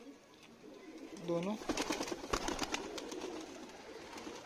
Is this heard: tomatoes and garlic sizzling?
no